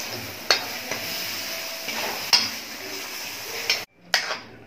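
Paneer is stirred with spices in a pan for paneer angara, with a soft continuous frying hiss and a few sharp clinks of the spoon against the pan.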